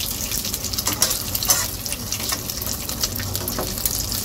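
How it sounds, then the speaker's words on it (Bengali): Eggs sizzle and crackle steadily in a hot pan, a close, continuous frying hiss with small pops and stirring scrapes throughout. "ডিম ভাজা অলরেডি বসে গেছি, ভাজবো আর এখানে দিব।"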